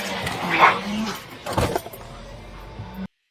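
A police K9 barks and whines at a suspect during an arrest, a couple of sharp close barks and yips followed by softer whimpering, with faint background noise.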